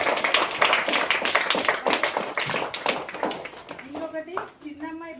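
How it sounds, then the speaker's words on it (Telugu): A group of people claps together at a daughter's birthday celebration, a dense burst of hand claps lasting several seconds before a voice begins speaking near the end. "వీళ్ళందరికీ ఒకసారి మనం క్లాప్ చేసుకుందాం"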